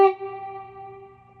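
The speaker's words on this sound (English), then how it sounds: "So now I'm using reverb effectively." A single plucked blues guitar note rings out with a reverb effect, its bright attack decaying into a long, sustained shimmering tail, played alone.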